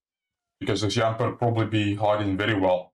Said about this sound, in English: that's a cat. I thought that was a Weedle.